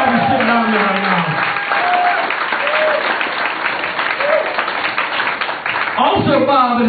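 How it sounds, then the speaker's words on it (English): A comedy club audience applauds in a loud, sustained burst of clapping, with a voice speaking over it and rising sharply near the end. "let's hear a round of applause for Bob Edwards"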